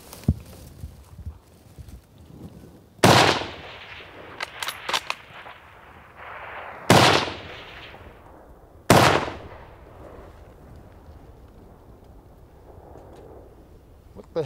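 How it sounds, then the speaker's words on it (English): Three loud rifle shots outdoors on a hunt in Aotearoa New Zealand, each a sharp blast with a long echoing tail, spaced a few seconds apart over faint background noise. "The heck of those first two shots?"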